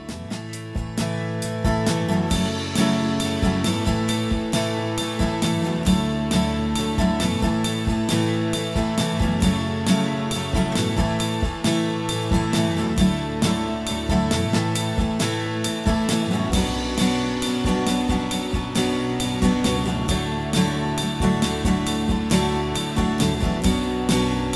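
An unfinished song mix with drums, acoustic guitar and bass: a dense, loud, steady groove of strummed chords over a driving beat, playing continuously without talk.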